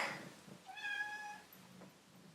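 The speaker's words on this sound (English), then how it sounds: "Nice cat." A cat gives a single clear meow, close and fairly soft, followed by a faint short chirp, in a quiet room.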